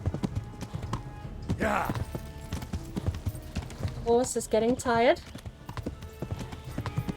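Horse hooves clip-clopping at a gallop in the video game Kingdom Come, rapid rhythmic thuds with a short whinny and breathy snorts, while someone talks over it.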